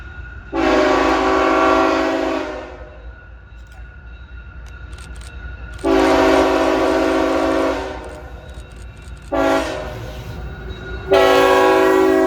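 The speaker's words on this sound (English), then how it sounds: "The next train to make its way north would be Hotshot Intermodal Train I-003, as it speeds north" Loud train horn blasts in long and short bursts over the steady roar and rumble of a passing intermodal freight train speeding north.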